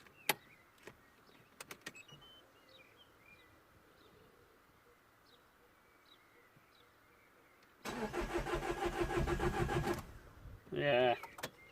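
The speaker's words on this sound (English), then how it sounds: "It dies when you crank the engine." A Citroën DS3 engine cranks after a head replacement, a loud starter churn lasting about two seconds following quiet clicks, then a brief whir.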